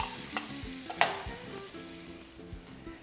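Soy sauce and cane vinegar sizzle in a hot pan with eggplant for adobo, a quiet steady fry punctuated by a couple of sharp spatula scrapes and taps, close up and without speech.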